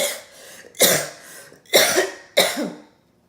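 Three harsh, forceful coughs from a pregnant woman sound close by, spaced about a second apart, with a quieter throaty rasp before the first and a fading tail after the last.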